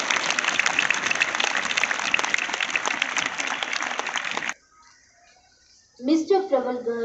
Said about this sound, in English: Let's all welcome him with a huge round of applause.